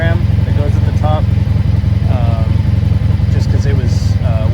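A 1983 Honda Magna V45 VF750C motorcycle idling at about 1,000 rpm with no choke, a loud, close, steady pulsing throb with brief voice fragments over it.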